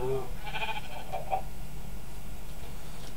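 A few short sheep bleats from the Minecraft video game sound near the start, followed by quieter ambient game background.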